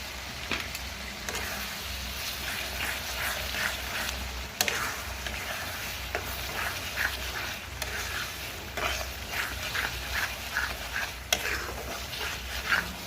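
Spice paste for a prawn and jackfruit curry sizzles and fries steadily in oil, with occasional stirring scrapes and clinks of a utensil against the pan.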